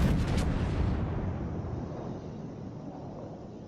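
A heavy naval gun fires in World of Warships, opening with a loud broadband boom that rolls into a long, fading rumble with no voices present.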